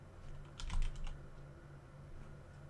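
A short flurry of quick keystrokes on a computer keyboard, quiet and close, over a steady low background hum with no talking.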